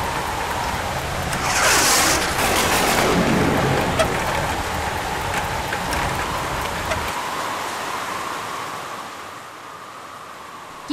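Heavy rain pours down in a cartoon scene, a dense steady rush of falling water with scattered sharp drops, loud at first and easing slightly toward the end, with brief vocal sounds early on.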